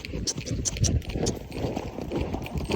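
Rhythmic horse hooves thud at a cantering pace on soft trail ground, steady and fairly close, with faint background noise.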